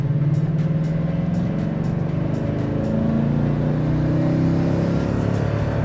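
A 2016 Toyota Tundra 1794 Edition pickup with a 5.7L V8 pulls away under light throttle, its steady engine drone slowly climbing in pitch, heard close from inside the cab.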